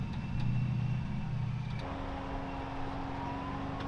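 Off-road rig engine droning at moderate level, lifting into a higher, steadier pitch partway through as revs rise while the tires fight for traction; fairly distant and without talk.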